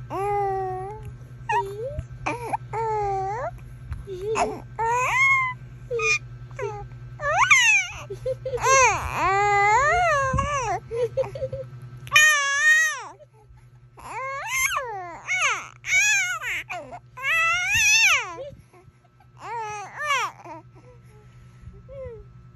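A two-month-old baby babbles and coos in rising, falling vocal runs, breaking into brief cries, close by, with a steady low hum underneath and an adult speaking softly at times.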